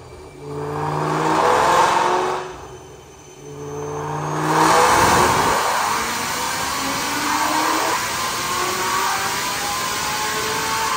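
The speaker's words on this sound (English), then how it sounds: "Check out this dyno pull." A 2014 Ford GT500 Mustang with long-tube headers and a 2.4 pulley revs on a DynoJet dyno, its supercharged engine swelling loud, dipping briefly, then climbing again through a long sustained pull in a shop, with no talking.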